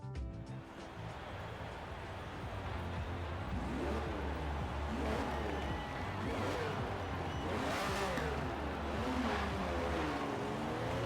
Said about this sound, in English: the V12 sounds pretty sick nasty